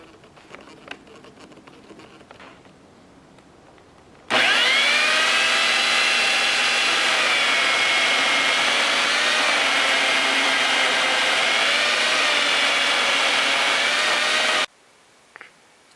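An electric chainsaw mills through wood, starting abruptly and running loud and steady for about ten seconds with a whining motor and cutting buzz, then cutting off, with quiet background before and after.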